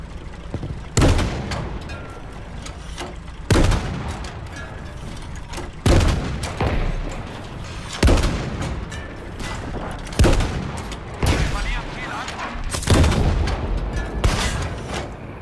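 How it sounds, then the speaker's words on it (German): Battlefield 5 JB2 air strike on the Provence map, a series of heavy booming explosions landing roughly every two seconds, each a loud sharp blast with rumbling decay over continuous battlefield noise. "Einen JB2 Luftschlag schicken an diese Koordinaten. Kein Problem, Luftschlag erfolgt in Kürze."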